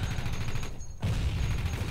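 MG42 machine gun fire in the Company of Heroes video game on Omaha Beach rattles in dense continuous bursts, with a brief gap before the fire resumes just as heavily.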